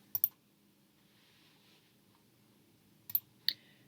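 A computer mouse clicks sharply three times in a quiet room, one quick double-click at the start and two more a few seconds later, while working in Cricut Design Space.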